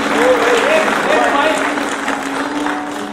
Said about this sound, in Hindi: जोरदार तालियों से अभिमन्यु का अभिनंदन करेंगे।